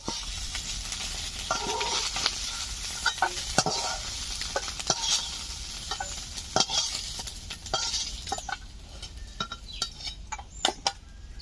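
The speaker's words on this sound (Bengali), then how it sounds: "মাছ ভাজা হয়ে গেছে, এখন তুলে নিচ্ছি" Snakehead fish sizzle in a hot pan as a spatula scrapes and clinks against the metal, lifting the pieces out with repeated sharp taps over a steady frying hiss.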